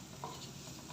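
Cabbage and carrot thoran is stirred in a pan, a brief, soft sizzle and rustle of shredded vegetables being turned, faint and close.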